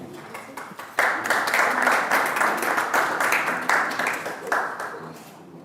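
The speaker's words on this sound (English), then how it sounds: "can we share a hand of applause for them" At a diplomatic conference, an audience breaks into applause after a faint tap, a full round of clapping rising at once and holding steady before tapering slightly, with a few voices murmuring beneath.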